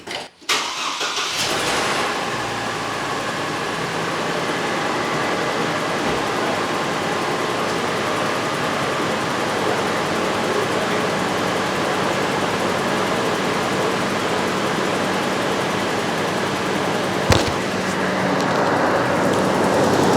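A 2006 Chevrolet Colorado truck engine turns over and settles into a steady idle after an idler pulley, tensioner and serpentine belt replacement, running evenly and close by for about twenty seconds with no talking.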